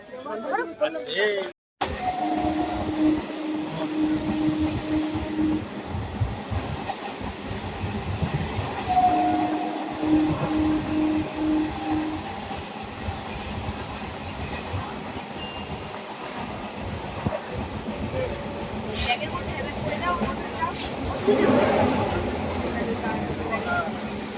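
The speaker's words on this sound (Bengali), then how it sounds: "আমাদের ট্রেন ঢুকে গেছে" A passenger train at a station near Naihati rumbles steadily as it arrives and keeps running, a loud continuous roar of wheels with rhythmic clatter and squeal, and people talk over it throughout.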